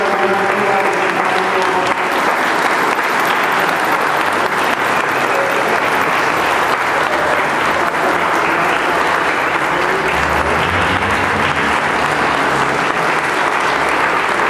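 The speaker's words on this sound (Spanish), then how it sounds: "Les damos un fuerte aplauso." A church congregation breaks into loud, sustained applause at the close of a wedding Mass, a dense steady wash of clapping lasting the whole stretch, with a few voices murmuring underneath.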